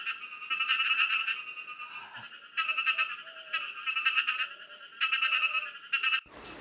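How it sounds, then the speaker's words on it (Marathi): Frogs croak in pulsing bursts across a farm field, loud rhythmic choruses with short pauses between, and a faint rising call underneath. "इथे माझा आवाज कमी आहे आणि बेडकांचा आवाज जास्त येत असेल"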